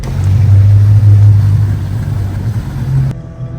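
A full houseboat returning from a day trip motors past on the backwater, its engine a steady loud low drone that holds, then cuts off abruptly near the end.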